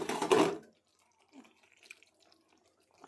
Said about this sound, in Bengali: এবার অল্প জল দেব